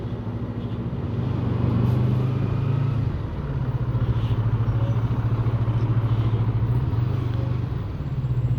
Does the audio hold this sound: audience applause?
no